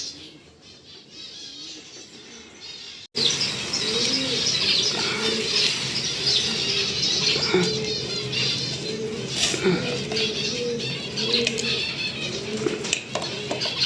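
Zebra finches chirp rapidly and steadily in a busy chorus close by, with soft cooing and wing flutters mixed in.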